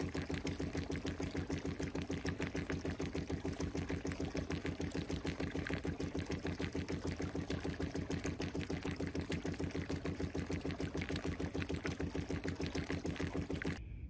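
A homemade gold bump-sluice shaker table of half-inch Baltic birch plywood, driven at about 6.5 hertz, runs steadily with a rapid, even mechanical knocking throughout, close and alone.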